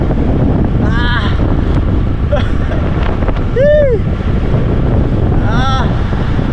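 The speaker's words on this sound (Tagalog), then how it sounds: "Lakas ng hangin sa kaliwa oh." Strong gusting wind roars across a desert cycling track in Dubai during a sandstorm, buffeting the microphone continuously and loudly while a rider cries out briefly over it.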